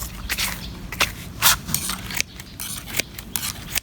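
Hand shears snipping and trimming grass along garden edges outdoors, a series of close, crisp cuts in an uneven rhythm with scraping blades and no voices.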